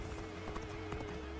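Horse hooves galloping in the video game Dynasty Warriors Origins, a steady rapid clopping over a constant low hum and game background, brief and moderately quiet.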